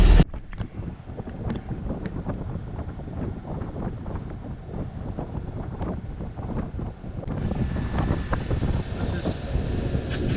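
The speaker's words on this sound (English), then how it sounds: "Apparent wind keeps creeping up." Steady wind roars and buffets the microphone aboard a sailboat heading back to the Isthmus. The broadband rush stays constant throughout and grows slightly louder near the end.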